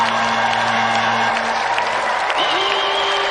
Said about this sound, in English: let's give another round of applause for Clive Barton and Richard Walkling